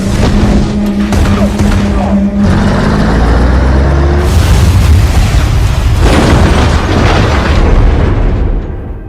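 Gunfire and heavy explosions in an action scene from the film Furiosa: A Mad Max Saga, loud rumbling booms and bursts layered with roaring engines throughout.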